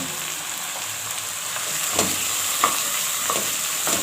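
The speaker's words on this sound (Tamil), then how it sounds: "இதை சேர்த்துட்டு லைட்டாக வதக்கி விட்டால் போதும்" Beans and tomato sauté in a pan for sambar, giving a steady, close sizzle with a few scraping stirs of a spoon, no talking.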